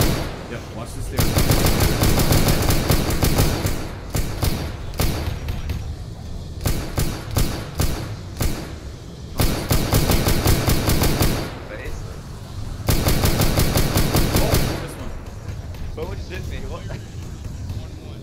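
Gunfire rattles through a Cadian Shocktroopers mission on a Poxwalker-infested island in a video game. Loud, rapid machine-gun bursts repeat with short pauses between them, and voices come and go over the shooting.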